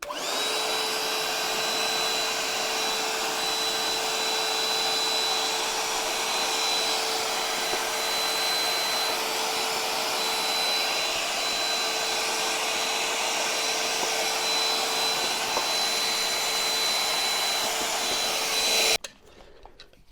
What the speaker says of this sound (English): Just vacuuming this up.